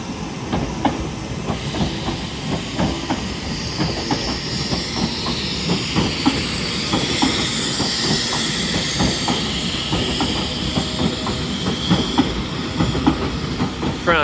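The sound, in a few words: TransPennine Express Class 397 train departing Carlisle station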